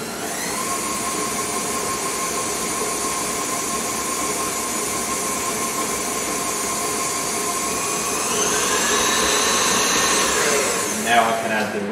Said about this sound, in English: I'm just going to mix those together.